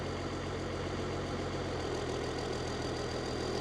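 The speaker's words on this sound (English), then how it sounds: "That old blowered exhaust, that sounds lovely." A steady engine idles through a blowered exhaust with a low, even rumble and humming tones, running continuously without any revving.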